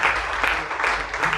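Audience clapping at a seminar in Faridabad, a steady dense patter of many hands filling the room at moderate loudness without pause.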